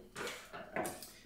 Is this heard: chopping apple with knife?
yes